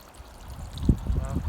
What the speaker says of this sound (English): So I'd scoop up the water